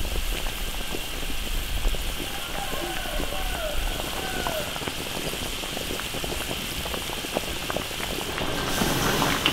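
Lamb spine stew with ginger, Sichuan peppercorns, chilies and spices simmering over low heat in a big iron wok, a steady bubbling and popping hiss that runs throughout with a faint voice briefly in the background.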